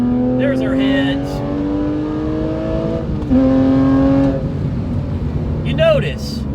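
Porsche 997.1 Carrera with a 4.3L engine accelerating hard: a loud engine note climbs in pitch, drops at the shift from third to fourth gear, then climbs again, with brief bits of a voice near the start and end.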